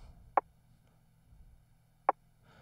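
Two layered drum rim samples, an XG snare and TL rims, hit together as two sharp, isolated clicks about two seconds apart over a quiet background, with no talking.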